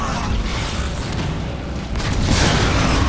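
A grenade explodes in the video game Transformers: War for Cybertron, a heavy booming blast with a rumbling tail that swells again near the end, loud and dense.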